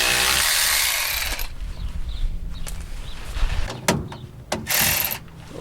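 Bolts come off a truck part under a tool: a burst of loud whirring at first, then scattered metallic clicks and clanks close by with quieter pauses between.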